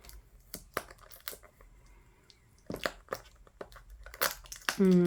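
Packaging of a Dimensions embroidery kit being opened, with intermittent crinkling and tearing bursts of plastic and paper, close by and fairly quiet, growing busier toward the end.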